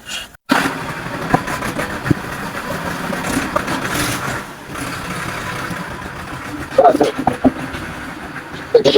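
A tractor engine cranks and catches, settling into a rough, rumbling idle close by while people talk over it with urgency.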